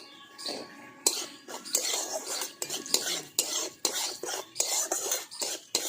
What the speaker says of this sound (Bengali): এই নুন আর তেলটা তেলের মধ্যে একটু ভাজা ভাজা করে নেব